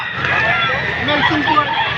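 At a busy chicken market in Padre Garcia, Batangas, a rooster crows close by, heard over dense crowd chatter and the murmur of voices.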